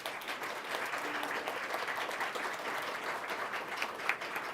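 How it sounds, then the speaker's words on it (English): Applause at a school district governing board meeting for newly elected board members, dense steady clapping from a room of people, even and sustained with little talk. "Let's give them a big round of applause."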